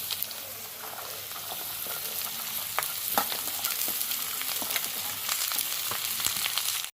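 Vegetable peels fry in hot oil with dry red chilli and panch phoron, a dense continuous crackling sizzle with scattered pops and light stirring, close and steady throughout, no speech.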